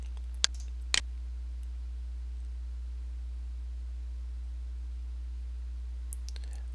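Two crisp, close computer mouse clicks come about half a second apart while closing Oracle SQL Developer. A couple of faint clicks follow later over a constant low electrical hum.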